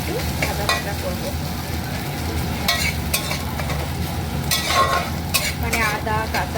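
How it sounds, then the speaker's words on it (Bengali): Chopped ginger, garlic and green chili fry in a pan with a steady, close sizzle, broken by repeated scraping and clinking strokes of a stirring spoon. "এবার এটাকে আমি একটু ভাজা ভাজা করবো"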